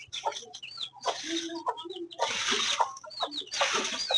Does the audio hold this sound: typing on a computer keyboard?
no